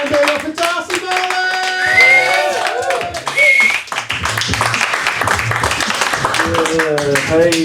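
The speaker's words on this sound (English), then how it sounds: "let's keep that applause going" Comedy club audience clapping and cheering steadily between comedians, a dense continuous wash of hands and shouts with music tones layered in.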